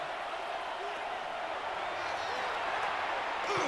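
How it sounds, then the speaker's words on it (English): A Madden 26 stadium crowd roars in a continuous broad wash of cheering during a football game, building slightly toward the end, with commentary voices faintly over it. "This crowd into it now as we get to 3rd down."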